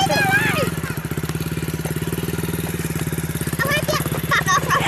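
A new motorbike engine runs while being ridden, a steady, close, pulsing mid-pitched putter that holds throughout as people talk over it.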